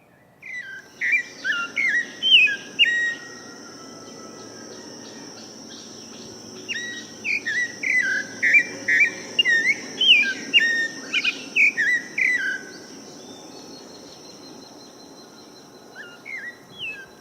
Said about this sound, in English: Upon learning about the friendly iguiro, I brought its song up on YouTube and closed my eyes.